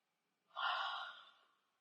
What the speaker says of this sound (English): Take a yawn.